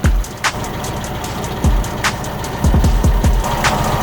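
Volkswagen Karmann Safari engine idling while its carburetors are balanced, a steady mid-pitched running note close by with a few sharp clicks and small rev bumps, no talk.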